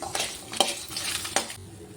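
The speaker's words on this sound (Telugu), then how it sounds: "ఒక స్పూన్ జీలకర్ర ఒక అర స్పూన్ మెంతులు ఒక పది ఎండుమిరపకాయలు వేసి వేయించుకోవాలి" Cumin, fenugreek and dried red chillies fry in a pan for a gongura leaf chutney. Brisk scraping stirs sweep through the pan over a faint sizzle, with two sharper clinks of the spoon and no voices.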